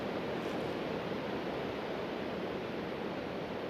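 Muffled underwater ambience in Minecraft VR, a steady dense wash of low rumbling noise like submerged surf, continuous and even with no talking.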